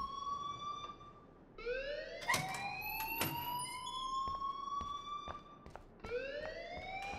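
In the Life is Strange video game, a security alarm wails with rising electronic siren sweeps that repeat several times, punctuated by sharp beeping clicks and heard without speech.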